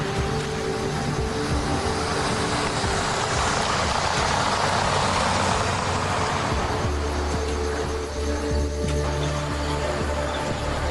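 A vehicle engine runs near lions on a roadside lined with shrubs, a steady low rumble with idling tones and some broadband wind-like noise, continuous and moderately loud with no speech.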